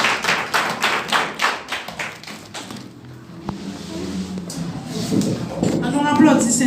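A church congregation claps hands in a quick, regular rhythm of sharp claps. The claps thin out midway, then a voice speaks over a murmuring room.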